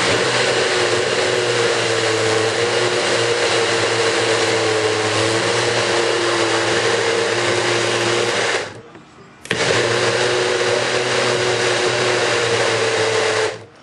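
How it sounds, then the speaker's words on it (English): A NutriBullet blender with a 600-watt motor blends a smoothie with coconut water, a loud steady motor whir that runs for about eight seconds, briefly cuts out, then starts again, close up and alone. "They have a new nutribullet that's out with a 900 horsepower motor in it."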